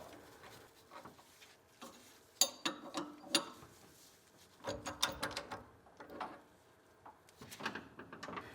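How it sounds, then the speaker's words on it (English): Metal clicks and ratcheting from a harmonic balancer remover tool pressing the balancer off a Ford Bronco engine (1980–1996 Bronco/F150), a series of sharp irregular mechanical taps and ratchet turns at close range with no talk. "attach it to your harmonic balancer and press it off"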